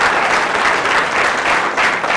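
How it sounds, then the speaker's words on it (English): Audience applause for Scott at a live event tied to a Guinness World Record mass sword swallowing attempt, a steady dense wash of clapping that stays loud and unbroken throughout. "please give a big round of applause to Scott"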